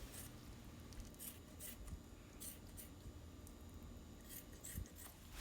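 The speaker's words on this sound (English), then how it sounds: "And you will also want to trim some of the excess skin." Scissors snip excess skin off a raw goose, a series of quiet, sharp cuts at irregular intervals against a faint background.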